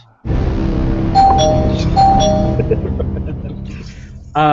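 A spoiler bell effect on a comic book podcast, a loud sustained metallic ringing tone with repeated bright dings that slowly fade, then a brief higher chime at the end, alone without talk.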